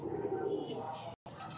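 Teddy breeder pigeons coo softly at close range, a low rolling murmur that fades in and out over a quiet background before a brief cut.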